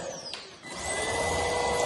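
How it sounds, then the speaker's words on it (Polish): Sharp upright cordless vacuum cleaner with a motorised turbo brush, used for car cleaning, runs with a steady high-pitched motor whine and airflow rush. It spins up after a brief dip and then holds a loud, constant drone. "turboszczotka po prostu ona podrywa z jakichś dywaników, z dywanów e, nieczystości, a odkurzacz się po prostu zasysa"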